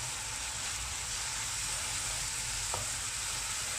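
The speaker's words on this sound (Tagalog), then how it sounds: "Kumukulo na kumukulo." Beef tapa sizzles and bubbles steadily in a pan, a soft continuous crackle with no talking, one faint clink partway through.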